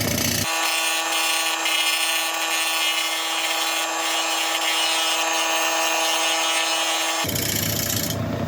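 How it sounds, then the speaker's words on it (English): A steel scraper rasps against spalted wood spinning on a lathe, a loud, continuous abrasive hiss over the motor's steady hum for about seven seconds, then easing off as the cut stops. "I'm going to carry on going a couple more scrapes at the side here with the scraper"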